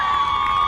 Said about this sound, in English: Nielsen getting a big round of applause.